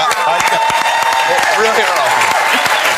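Studio audience applause on a live morning talk show, a dense loud burst of clapping with scattered cheers and voices mixed in throughout.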